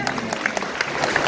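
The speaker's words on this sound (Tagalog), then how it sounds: "Palakpak sa Panginoon!" A church congregation applauding together during a service, a dense, lively burst of clapping with sharp individual claps standing out, close and continuous throughout.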